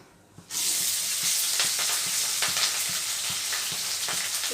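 Mustard seeds, cumin, green chillies and onions frying in very hot oil give a loud, steady close sizzle with scattered crackles and pops, starting abruptly after a quiet moment, with no talking.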